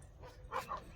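Dogs bark near a village house among farm fields in Punjab, two short faint barks close together over a low, quiet background.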